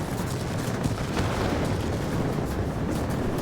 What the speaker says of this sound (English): We're gonna drop 2 bombs here, because screw those guys